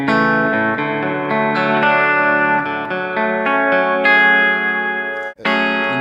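An electric guitar runs through a delay pedal and a reverb pedal emulating a vintage console plate reverb, playing sustained clean chords and notes that ring and overlap with echoing tails, loud and close, ending in a brief cut before a final chord.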